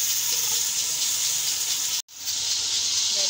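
Ground garlic, ginger and tomato frying in a pan with cumin seeds give off a steady, bright sizzle that runs continuously, broken by one very brief gap.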